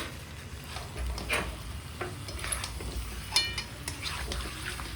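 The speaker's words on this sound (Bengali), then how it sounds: "আলুগুলোকে দিয়ে আরেকটু নাড়াচাড়া করে নেব" Fried potatoes stirred into a meat curry in a pan, a few soft scrapes and clinks of a spoon against metal over a low background hum, quiet and close.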